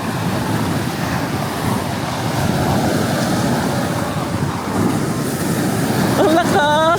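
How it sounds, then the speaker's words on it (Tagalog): Strong ocean waves surge and crash at Puka Beach on Boracay Island, a loud, continuous wash of surf mixed with gusting wind buffeting the microphone, and a brief spoken voice near the end. "Ang lakas na alon na yun."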